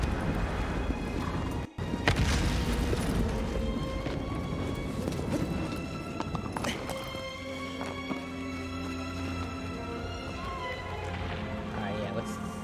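Horse hooves in the PS5 video game Shadow of the Colossus: a steady run of galloping hoofbeats close in the mix, with a sharp crash near the start and busy game sounds around it.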